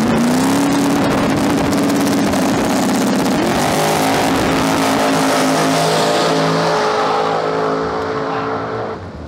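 A 4000 HP KXW406 radial drag race car makes an eighth-mile pass at a drag racing event, its engine screaming loud and near with a rising whine that holds then fades slightly at the end.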